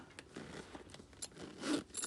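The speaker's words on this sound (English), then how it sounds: "zip it and unzip it" A zipper on a Louis Vuitton item is pulled in a few quick, faint scratchy strokes, close up, with short gaps between the bursts.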